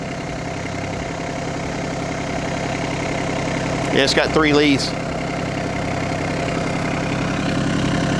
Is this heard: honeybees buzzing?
no